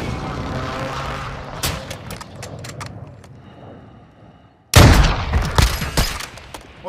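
Sharp gunshots crack in the video game Call of Duty Warzone 2: a few scattered shots early, then a sudden loud burst of rapid fire near the end, with no speech in between.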